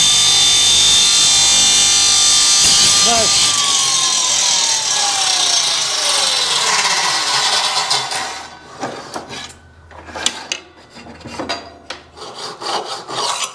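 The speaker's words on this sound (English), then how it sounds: "I don't recommend using a wood saw to cut aluminium, even if it is only 3mm thick" A wood saw cuts through 3mm aluminium sheet with loud, sustained harsh rasping and grinding; partway through, the steady cut gives way to choppy, irregular strokes and scraping.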